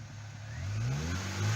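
A 2009 Honda Civic EX engine revs up on a test drive, rising from a low hum to a stronger, climbing drone heard from inside or near the car.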